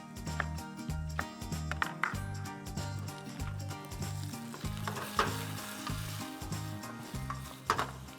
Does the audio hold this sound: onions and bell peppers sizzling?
yes